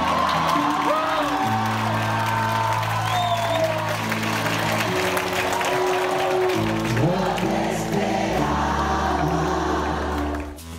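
Concert audience applauding a singer, with steady applause and cheering and whoops over loud music throughout.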